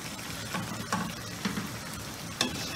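Chicken pieces fry in a pan for chicken mandi with a soft, steady sizzle, broken by a few light scrapes and taps as they are moved or turned.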